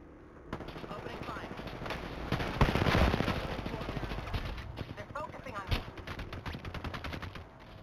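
Video game gunfire in rapid automatic bursts, loud and close, with shots rattling nearly the whole time and game voice lines mixed in.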